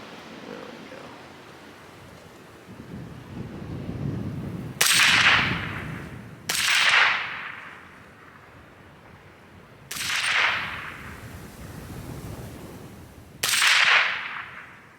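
Four sharp, loud gunshots from an AR rifle with a 16-inch Faxon 300 Blackout barrel crack outdoors at uneven intervals, each followed by a brief rolling echo, over faint wind noise.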